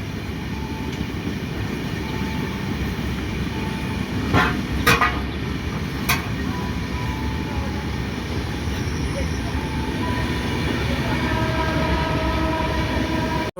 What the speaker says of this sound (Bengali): আমাদের ট্রেন এখন জলপাইগুড়ি রোডে ঢুকতেছে।